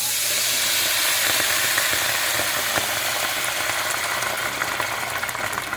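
Water poured into a hot pan of browned Belgian endive rolls wrapped in ham bursts into a loud, steady sizzle and hiss of steam that holds for several seconds, easing slightly toward the end.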